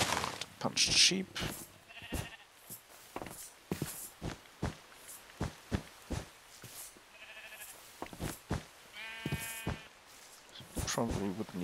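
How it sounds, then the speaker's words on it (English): Sheep in a video game bleat several times in short nasal calls scattered through the clip, mixed with footstep-like taps and heard under ongoing talk. "Probably would need to euthanize the sheep up there."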